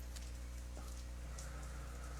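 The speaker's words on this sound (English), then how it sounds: "the rain is really strong" Heavy rain falling steadily at a surfing beach during a competition, a dense constant hiss with scattered drop patter, no voices.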